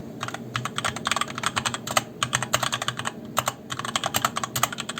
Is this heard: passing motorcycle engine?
no